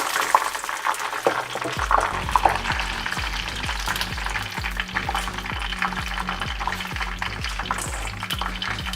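Pork cracklings frying in hot fat in a pan, a loud, continuous close sizzle and crackle with bubbling and rhythmic stirring or scraping throughout.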